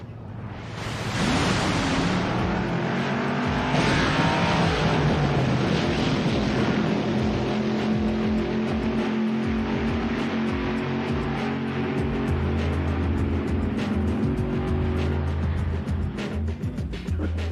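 The Little Red Wagon wheelstander exhibition drag vehicle roars up from quiet into a loud, sustained engine blast, its pitch sliding and shifting as it runs, then a deep drone lingers near the end.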